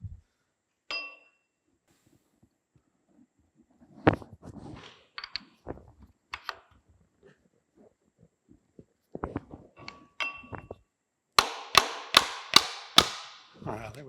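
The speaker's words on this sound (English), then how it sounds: "I've got a copper hammer I want to drive that pin home with" Sparse knocks and faint clatter give way to a quick series of about six sharp metallic strikes of a copper hammer driving a pin into a bandsaw's upper wheel bearing assembly near the end, close and ringing.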